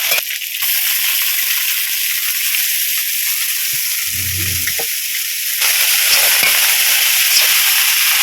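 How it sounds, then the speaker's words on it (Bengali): Pea greens hit a pan of frying potatoes with a loud, continuous hiss and sizzle that briefly dips, then surges louder and harsher partway through, with no talk. "ভেজে নেবো"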